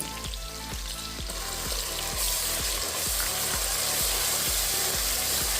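A ginger, onion and coconut paste fries in a pan for tomato rice, giving a steady, close sizzle with a regular beat of low knocks and scrapes from stirring.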